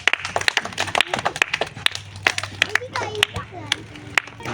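Audience at a village funny game of rolling a ball to knock over bowls, clapping for a contestant given a consolation prize: scattered, uneven handclaps from a small crowd, close, mixed with talk and a low steady hum.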